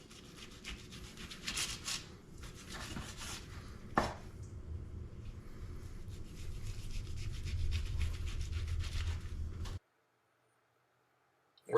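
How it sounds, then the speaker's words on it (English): A knife saws back and forth through a boneless rib-eye roast, cutting it into steaks about an inch and a quarter thick. The strokes rasp and squelch steadily at close range, with a knock near the middle, and stop abruptly before a near-silent tail. "We're just cutting up the ribeye"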